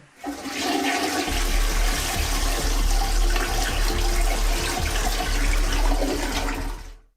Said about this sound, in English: who was flushing the toilet at 2:40 a.m.?